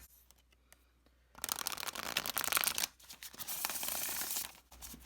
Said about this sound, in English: I love the way it shuffles, so I'm going to go ahead and shuffle it